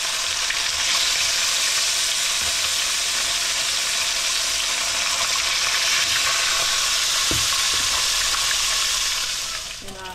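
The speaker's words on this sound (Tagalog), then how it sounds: "Simulan na natin ang prito." Loud, continuous sizzling and crackling of fish frying in hot oil for escabeche, close up, with occasional pops and a faint clatter near the end.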